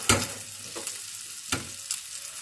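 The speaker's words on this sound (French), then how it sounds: "Maintenant, on fait revenir nos quenelles. Quelques minutes de chaque côté dans une bonne rasade de beurre." Quenelles frying in a generous splash of butter in a pan, a steady sizzle broken by a few sharp scraping stirs and clicks, close up and without voices.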